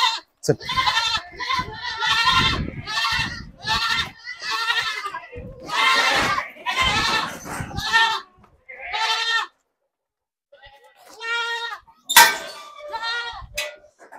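Young crossbred Osmanabadi-Beetal goat kids bleat repeatedly in short, high, wavering cries, several overlapping, with a brief quiet gap midway; no talking.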